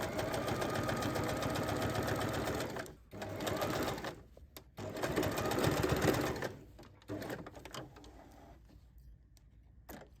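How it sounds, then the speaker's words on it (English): Sewing machine stitching bias binding on a large tote bag, a loud rapid mechanical whir running in bursts with brief pauses, then slowing to lighter stitching toward the end. "sew the fold line"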